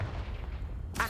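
A Confringo spell blast from Hogwarts Legacy: a short booming burst with rumbling low body, followed by a sharp bright crack near the end, loud and close.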